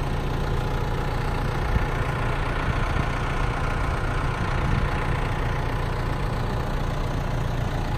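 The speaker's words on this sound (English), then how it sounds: "we're doing it with this tractor" A tractor engine idles steadily outdoors, a continuous low rumbling drone with a faint knocking texture, close and unchanging throughout.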